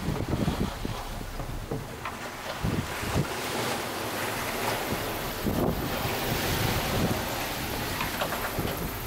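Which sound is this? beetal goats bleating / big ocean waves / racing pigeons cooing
big ocean waves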